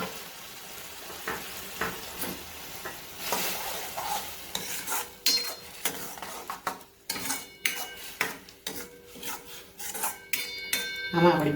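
Tomato puree being added to a pan and stirred into a paneer butter masala base, with repeated scraping and clinking of a spoon against the pan over a soft sizzle.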